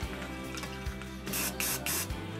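Hairspray from an aerosol can hisses onto straightened hair in three short close bursts near the end, with quieter handling sounds and a faint background hum before them.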